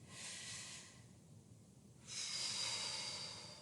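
Slow, steady breaths during a yoga movement, a long soft inhale-like hiss giving way to a quieter pause and then a stronger, brighter exhale, close and alone without talking.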